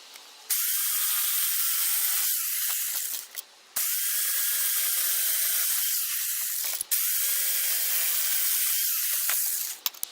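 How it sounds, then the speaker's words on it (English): A jigsaw cuts wooden shelves for an advent calendar in three long, loud buzzing passes, each separated by a short pause, the harsh motor rasp steady throughout every cut. "I'll set up my jigsaw again and cut it out."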